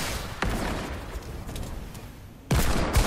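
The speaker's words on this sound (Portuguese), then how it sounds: "tem pessoas dando tiro pra mim de dois lados." Bursts of rapid video game gunfire with echoing booms, loud and close, a sharp volley at the start and another heavy burst near the end.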